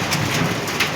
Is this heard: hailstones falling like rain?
yes